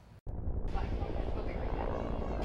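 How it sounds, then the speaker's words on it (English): A firefighting helicopter dropping water on a hillside wildfire drones steadily with a broad rotor rumble close by, while a voice talks faintly underneath. "Helicopters are dropping water trying to save homes."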